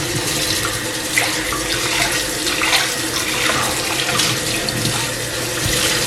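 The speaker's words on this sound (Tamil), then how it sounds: "பச்சை தண்ணியில் கழுவுவோம்." Water runs steadily from a tap over a new clay pot as it is washed, a loud continuous splashing rush with small shifts in tone and no voices.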